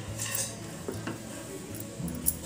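Mango pulp stirred gently in a pan over a low flame, with soft, irregular scraping and clinking of a spoon against the pan, fairly quiet and close, with no talking.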